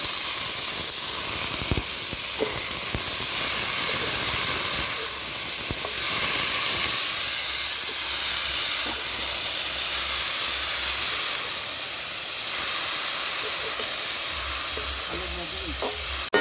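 Shredded cabbage sizzles steadily in a pan coated with spices for a vegetarian dish, a continuous close frying hiss with occasional stirring scrapes and no talking.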